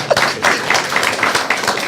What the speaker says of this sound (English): Wow, okay, give her an applause.